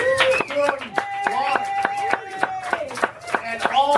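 An audience claps sharply and irregularly for a group of students, the crisp claps close by while voices talk and cheer over them.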